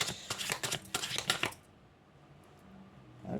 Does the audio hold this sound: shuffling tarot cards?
yes